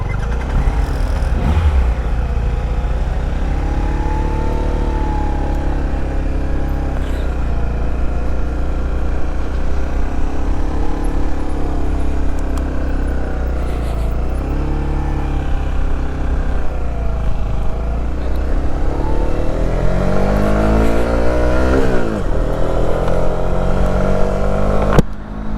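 Motorcycle ridden off and accelerating, its engine note rising and falling through gear changes, loud and continuous with strong wind roar, and no talk.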